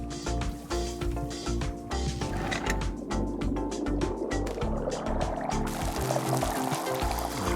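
In the cozy video game Wanderstop, tea is emptied out in a continuous pouring, splashing stream of liquid over layered game music that plays throughout.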